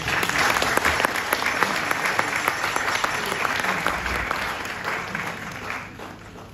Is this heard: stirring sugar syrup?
no